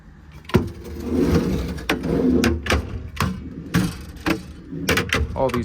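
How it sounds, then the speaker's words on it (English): Service drawers in the body of a 2021 Ford F550 extended-cab mechanics truck slide and shut close by, giving a series of quick clunks and soft rolling runs in irregular succession. "All these drawers slide super nicely"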